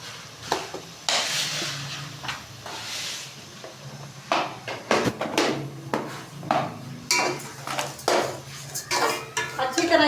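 Metal spoon scraping and clinking against a pot while ghee and sugar are mixed into pumpkin halwa; repeated close scrapes and knocks in an irregular rhythm, with no talking.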